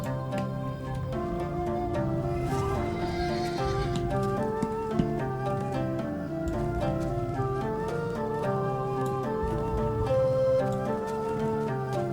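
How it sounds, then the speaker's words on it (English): A horse's hooves galloping steadily with an occasional whinny, under continuous background music, in the video game Dungeons & Dragons Online. "we could just be racing past on our horse"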